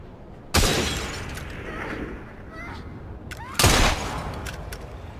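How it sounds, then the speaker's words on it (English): Two loud gunshots in Assassin's Creed Syndicate, each a sharp crack followed by glass shattering and a ringing tail, spaced about three seconds apart. "The name of the game is... Shoot the bottle?"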